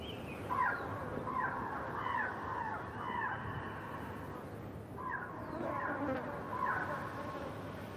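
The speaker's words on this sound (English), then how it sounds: "The only thing you can hear are the sounds of birds, carrions, cackling from above." Harsh, cackling bird calls come in scattered bursts over a constant droning buzz, fairly faint and distant, with no talking.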